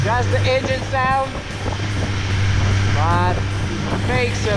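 A 2017 Suzuki GSX-R1000R superbike engine roars loudly and steadily throughout, with wind buffeting the microphone and a voice shouting over it now and then.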